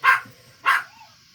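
Puppies in a box give two sharp, high yips about half a second apart, close by with nothing else around them.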